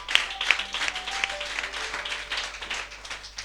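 A church congregation applauds together, a dense steady patter of many hands clapping at moderate distance for several seconds with a few sharper claps near the start.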